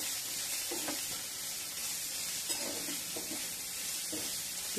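Dried prawns sizzle in hot oil in a pan, a steady bright hiss with a few soft scraping stirs, close and alone.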